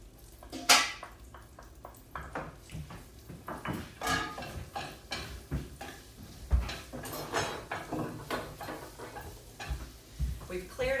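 Chopped garlic dropped into a pan with crispy pancetta, soft sizzling under scattered clinks of utensils against the pan and stirring scrapes, fairly quiet and close.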